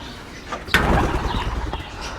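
Pigeons kept for breeding, with eggs and chicks, coo and shuffle nearby in the afternoon, with a sudden burst of wing flapping partway through, loud and close with no talk.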